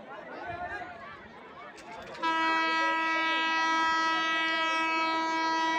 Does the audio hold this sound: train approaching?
yes